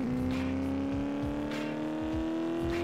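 A Porsche in the Traffic Racer video game accelerates with a steady, rising engine drone, its pitch climbing slowly and evenly with a few gear-shift dips along the way, loud and continuous with no talk.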